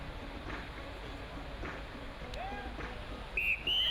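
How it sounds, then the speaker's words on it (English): Starter's whistle at a surf lifesaving championship race start on a beach, a sharp high tone sounding briefly near the end over steady crowd and surf noise. "The second whistle is gone"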